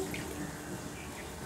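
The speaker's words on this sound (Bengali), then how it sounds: "এই যে মশলা ধোয়া জলটা, এটা কিন্তু আমি গরম জল দিয়ে দিলাম।" Hot water used to rinse the spices is poured into a pan while a vegetarian sesame paneer dish cooks, making a brief, steady splashing pour close by.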